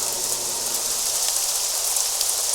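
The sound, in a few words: rain downpour in the video game Craft The World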